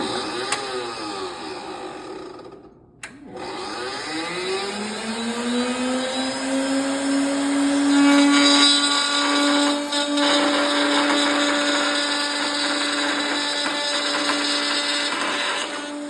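A router cuts a sliding dovetail along a wooden table leg, its steady high whine loading into a sustained grinding cut after a brief pause, loud and close with no talk.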